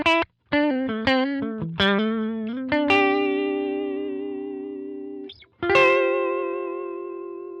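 Guitar notes through a Line 6 Helix Retro Reel tape simulator with wow and flutter cranked up, a short melodic phrase and then sustained notes that warble and waver in pitch, clean and close with a brief dropout mid-way.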